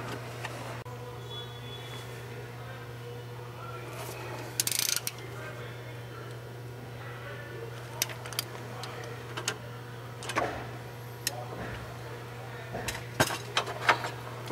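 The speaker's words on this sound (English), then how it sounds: "I'm going to bolt up the slave cylinder to the transaxle first." Slave cylinder being bolted onto the transaxle of a 2000 Honda Civic EX 1.6L, heard as scattered metallic clicks, ratchet ticks and tool taps over a steady low hum, mostly faint with a few sharper clanks.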